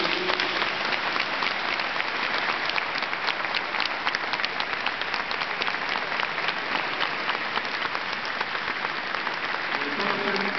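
Audience applause at the presentation of a farewell concert in Ciudad Rodrigo, a long, dense, even round of clapping from a large crowd that holds steady throughout.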